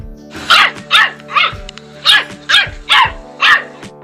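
A puppy barks seven times in a quick, fairly regular rhythm, close and loud, with short pauses between each yap.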